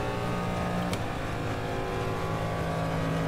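A race car's engine drones steadily in the rFactor 2 racing simulator at the Daytona circuit, a continuous close tonal hum with layered harmonics and no speech.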